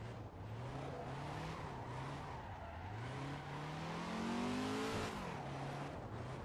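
A 3,000-horsepower semi truck engine chugs along Rainbow Road in the racing game Assetto Corsa, its tone rising and falling with shifts under a steady bed of tire and road noise, moderately loud with no talking.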